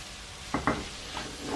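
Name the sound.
frying onion, grated carrot and sweet pepper in a pan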